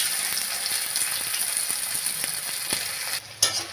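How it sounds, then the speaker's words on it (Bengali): Onions fry in hot oil with whole cinnamon, cloves and cardamom after sugar has caramelised, a close, steady loud sizzle with soft stirring ticks, briefly dipping near the end before resuming. "পেঁয়াজটাকে লাল করে ভেজে নেব।"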